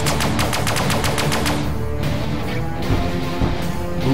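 Pulse guns in the space strategy game Sunrider: First Arrival fire in a rapid, evenly spaced burst of sharp shots, followed by a dense, loud wash of weapon fire and impacts carrying on without any voices.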